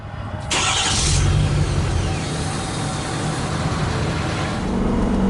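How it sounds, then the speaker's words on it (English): A 2019 Ford F-250 Super Duty King Ranch Platinum pickup's engine rumbles up loudly after a quiet start and holds a steady close drone as the truck drives along, then eases slightly near the end. "here we are out on the road with the 2019 F-250 Super Duty, and we're just going to take it down the road here a little bit"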